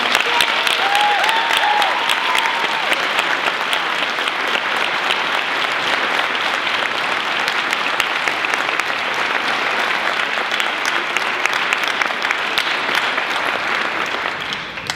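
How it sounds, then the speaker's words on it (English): Concert audience gives a school honors band on stage a long, steady round of applause, loud and dense throughout, with a brief voice near the start. "can you give these kids on stage a great round of applause?"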